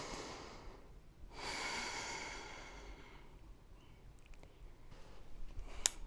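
Slow, deep breathing during a yoga hamstring stretch: a long, soft, breathy exhale, with faint nasal breaths and small rustles after it, all quiet and close.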